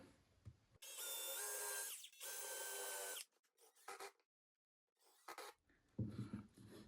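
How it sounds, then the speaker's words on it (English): A power drill pre-drills a screw hole during flat-pack dock assembly, whirring in two steady bursts, close and loud, followed by brief scraping and handling noises and a low rustle. "Pre-drill."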